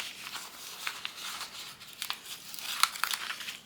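Sticker backing peeled off a simple gift tag, giving soft, close crinkling and tearing rustles in short bursts, with a slightly louder paper crackle near the end.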